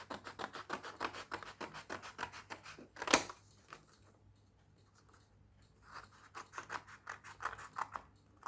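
Scissors snip through a plastic part from a White Wings Hawker Siddeley Harrier model kit in a run of quick, crisp close-up clicks and scrapes, with one sharp snap, a quiet pause, then more rapid cutting.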